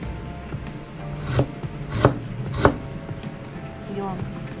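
A kitchen knife chops peeled Japanese ginger on a cutting board, three distinct cuts at a steady, unhurried pace. They are heard up close over a low background hum with no talk.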